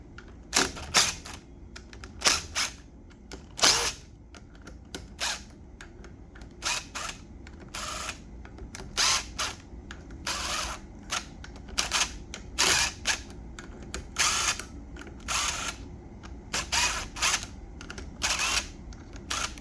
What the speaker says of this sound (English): I believe the pressure plate screws here are going to have to come off, so I'll go ahead and start taking those